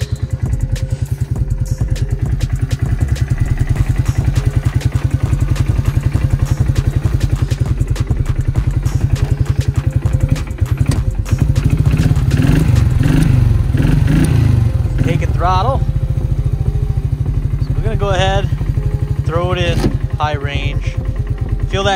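A Bombardier Quest 500 ATV engine that smokes and won't shift idles close by with a loud, steady low putter, while someone talks over it throughout.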